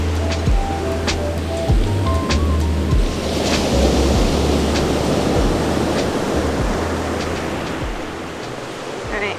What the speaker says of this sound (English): we have made it to the black sand beach